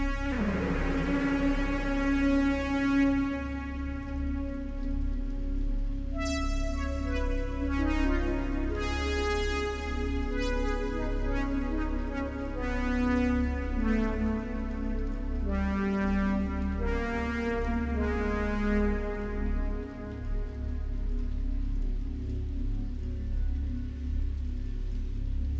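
Synthesizer patch processed through reverb in Massive, for a Blade Runner-style sound: sustained harmonic chords and shifting notes ringing with long washy tails, steady and fairly loud throughout, no voices.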